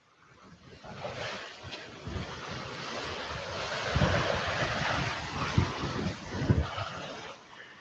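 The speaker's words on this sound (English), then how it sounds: "So I apologize for the wind." Gusty wind buffeting the microphone on a coastal walk from Waikiki to Kahala, rough low rumbling bursts swelling and fading over a background of ocean surf.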